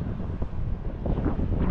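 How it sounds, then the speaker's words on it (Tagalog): Strong wind gusts across open water during a fishing trip, giving a steady, loud rumbling roar that buffets the microphone throughout with no talk. "medyo lumalakas na yung hangin"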